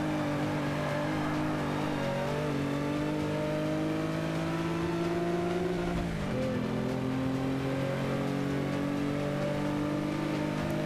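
Race car in Forza Motorsport 5 revving steadily with rising pitch, dipping at a shift around the midpoint and climbing again, loud and continuous with no talk.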